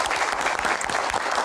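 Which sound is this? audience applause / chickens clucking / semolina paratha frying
audience applause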